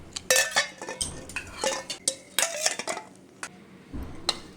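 Boiled eggs lifted out of a cooking pot with a metal spoon, a quick run of sharp clinks and knocks against the metal rim, some close together and a few spaced apart.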